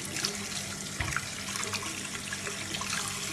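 Hands are washed under a running tap at a sink. Steady water streams and splashes throughout, with small shifts in the flow as the hands move beneath it.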